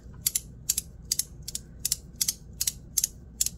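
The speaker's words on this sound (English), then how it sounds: "Oh, what a nice little click." Rapid bursts of sharp mechanical clicking from a fidget nut, ratchet-like, repeating in quick uneven pairs over a low background hum, close up and crisp.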